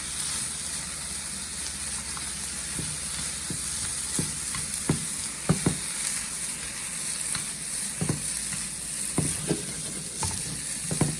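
Noodles, shrimp and vegetables fry in a pan under a constant loud sizzle, with scattered close scrapes and clacks as they are stirred over about eleven seconds.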